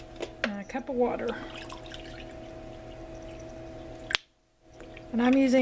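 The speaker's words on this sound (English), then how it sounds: "And a cup of water." A cup of spring water poured into cake batter with eggs and oil, a short liquid splash and trickle near the start, followed by kitchen clatter and a voice talking.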